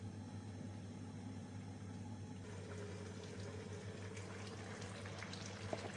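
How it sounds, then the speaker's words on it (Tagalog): A pot of ginataang gulay, vegetables in coconut milk, simmers at a rolling boil, a steady close bubbling and hiss with a low constant hum underneath, quiet and unbroken throughout. "So, kumukulo na po siya."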